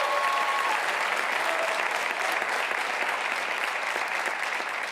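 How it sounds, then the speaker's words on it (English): Sustained audience applause from many people clapping at an Obama Foundation conversation on democratic organizing, a dense, steady wash of claps at even loudness throughout with no talking over it. "All those people clapping up there"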